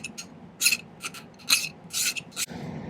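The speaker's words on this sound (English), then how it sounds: "Now I'm going to spend a little time filing the ends flat." Hand file rasping across the ends of a small silver bell to flatten them, about seven quick close strokes in an uneven rhythm, each a bright scratchy burst, with no talk.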